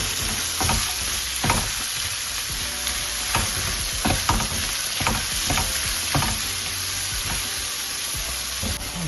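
Curry leaves, onion and coconut pieces sauté in hot coconut oil, a continuous close sizzle punctuated by repeated scraping stirs at a loose rhythm, with no voices.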